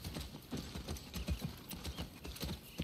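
Horse hooves clip-clop in a quick, uneven rhythm in The Last of Us Part II, the thuds close and fairly quiet, with faint mechanical creaks and rattles mixed in.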